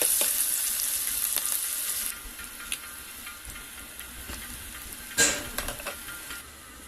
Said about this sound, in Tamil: வெங்காயம் வதங்குற டைமில் கருவேப்பிலை பச்சை மிளகாய் வரமிளகாய் சேர்த்து நல்லா வதக்கிடலாம்